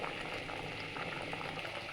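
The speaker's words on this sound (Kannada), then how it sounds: "ಈಗ ಮೊಟ್ಟೆ ಹಾಕಿದ್ಮೇಲೆ ಒಂದು 5 ನಿಮಿಷ ಬೇಯಿಸ್ಬಿಡು" A pot of egg sambar bubbles and simmers steadily, a continuous close boiling sound with no voices.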